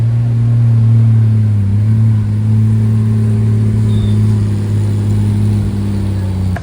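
A Porsche 996 GT3 race car in Cup or RSR build rolls past on a Tokyo street, its steady, strong engine drone close and loud throughout with a slight swell in pitch, heard alone without talk.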